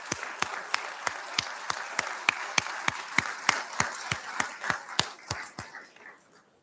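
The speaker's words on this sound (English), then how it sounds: "can we just give a quick round of applause for the Greater North Fulton Chamber of Commerce for sponsoring tonight's beverages" An audience at a city's 15th anniversary celebration applauds in sync, producing sharp, evenly spaced rhythmic claps over a bed of softer crowd clapping that fades out at the end.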